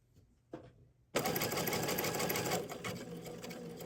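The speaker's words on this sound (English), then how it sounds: "Finish up the stitch. That's very quick to have your button hole stitched." A Baby Lock Chorus sewing machine stitching a one-step buttonhole starts after a couple of light clicks and then runs as a loud, continuous close-up whir with rapid needle chatter.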